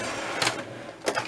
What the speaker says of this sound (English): so sewing machine back again.